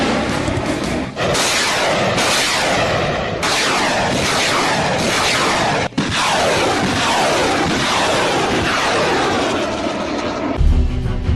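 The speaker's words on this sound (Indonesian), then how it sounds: "artileri ini juga memuat 40 peluncur roket yang mampu menembak secara simultan" Norinco Type 90B multiple rocket launcher fires rockets in rapid succession, producing a loud, continuous roaring rush with repeated whooshing launches that ends in a distant rumble.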